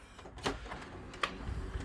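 An all-in-one printer with its cover just opened gives off a quiet series of short mechanical clicks and whirs, with two brief, sharper bursts standing out above a low steady hum.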